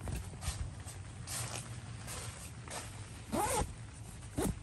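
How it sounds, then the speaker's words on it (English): The door zipper of a Gazelle T4 Overland Edition tent is drawn closed in the rain, with several quick, close zipping strokes. The last two pulls are longer and louder, over a soft patter of rain. "I'm gonna go ahead and zip these up."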